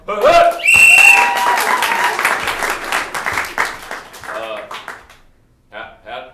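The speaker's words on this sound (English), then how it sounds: "So please give these kids a round of applause." Audience applause at a benefit comedy show swells into loud, dense clapping with a few whoops, then thins out and fades to scattered claps and near silence, with voices heard over it near the start and end.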